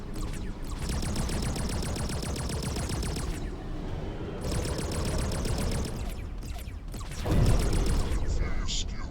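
Gunfire from a weapon in the space game X4: Foundations comes as rapid repeating bursts in two long stretches, steady and moderately loud over a low rumbling background.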